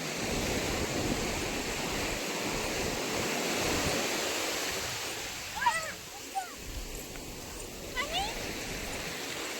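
Sea breeze and waves wash along a seashore near a river mouth, a broad hiss that is loud at first and then eases, with a few faint high mewing chirps near the end.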